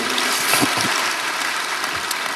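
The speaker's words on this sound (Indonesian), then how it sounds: "Berikan tepuk tangan kita untuk Tuhan kita" Applause from a church congregation praising God during a sermon forms a continuous, hissing wash of many hands at a distance, steady and moderately loud, with a few louder claps near the start.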